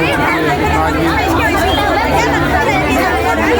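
Dense crowd babble from workers packed into a labour department office, a constant wash of overlapping voices near and far, loud and unbroken throughout.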